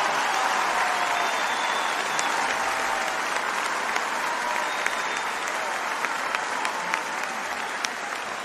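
Steady, full applause from a concert audience after a Roberto Carlos song, a continuous crowd of clapping hands with occasional sharper claps and whistles standing out, sustained throughout.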